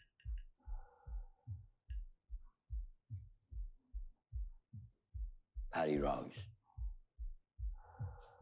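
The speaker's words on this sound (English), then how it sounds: "There's the breathing and heartbeats again." A dramatized heartbeat-and-breathing sound effect from the drama series Peaky Blinders: a steady, close thumping pulse with a loud breath swelling in the middle, while voices speak over parts of it.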